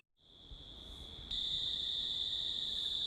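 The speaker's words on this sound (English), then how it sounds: "Once the cicadas start singing" A single cicada's shrill, steady buzz starts faint and swells, then jumps louder and holds constant, piercing and close, with no other sounds.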